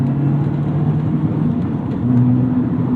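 Mazda Miata Club ND3 with a short shift kit, its engine humming at steady revs through a gear change with throttle blips, a continuous close in-car drone with no talking.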